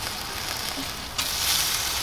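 Prosciutto-wrapped enoki mushrooms and asparagus fry low and slow in a pan, a close, steady crackling sizzle that grows brighter and louder about halfway through.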